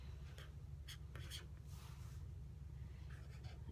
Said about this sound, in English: So I'm going to write on here Mike